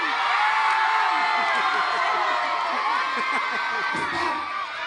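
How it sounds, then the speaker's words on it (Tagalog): Neighbours gathered outdoors shout and cheer together in a loud, sustained crowd roar with whoops, steady throughout and fading slightly at the end. "sumisigaw na yung mga kapitbahay mo"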